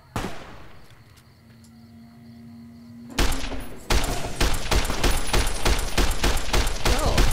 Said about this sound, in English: Who are you shooting at, Boone?